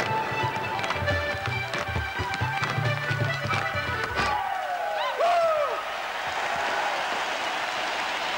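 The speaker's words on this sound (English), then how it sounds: "Already a bit of Clare nifty footwork here at Croke Park." Irish set dancers from Clare stamp out rapid footwork on a stage at Croke Park before the 1995 All-Ireland hurling final, brisk rhythmic taps and clatters over music for about four seconds, then crowd noise and whistles follow.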